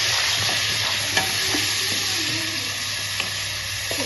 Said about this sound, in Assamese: এতিয়া পিঁয়াজখিনি ৰঙা হোৱালৈকে ভাজি ল'লোঁ